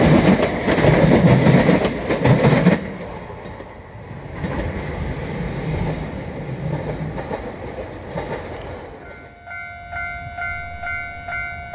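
A train rolls through the Miyata-dori railroad crossing in Kagoshima, loud and close at first with rumbling wheels, then fading. Steady crossing bells ring clearly near the end.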